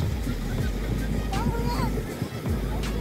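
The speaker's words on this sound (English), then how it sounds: "Look at them big waves." Big ocean waves breaking at a beach, a low steady surf rumble mixed with wind buffeting the microphone, while someone talks over it.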